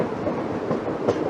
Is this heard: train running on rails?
yes